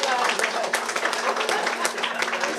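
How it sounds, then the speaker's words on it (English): Applause from an audience at a school prize giving for standard four winners, a fairly dense patter of many hands clapping at even loudness throughout, with a steady low hum underneath. "Give a round of applause,"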